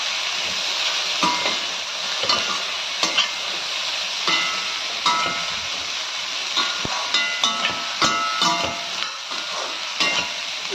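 Cooked chickpeas (shanagalu) frying in a hot tempering, steady sizzling with frequent scraping stir clicks of a spoon against the pan throughout, close and continuous with no talking.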